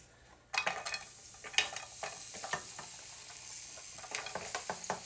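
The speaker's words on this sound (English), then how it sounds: "now that the pan is nice and heated, we're going to add the onions" Onions hit a well-heated pan and start frying, a sudden burst of sizzle after a brief quiet moment, then steady crackling with stirring scrapes and clicks, close and moderately quiet, no voices.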